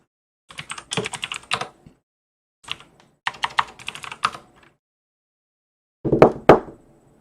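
Typing on a computer keyboard, close up, in three bursts of rapid clicking keystrokes separated by short pauses, with a final few heavier taps.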